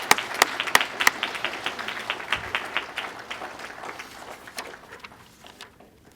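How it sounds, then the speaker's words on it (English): An audience at a spring breakfast program applauding, a fairly faint round of clapping that starts with a few sharp claps, swells into steady applause and then fades out over several seconds. "If we could give them a round of applause."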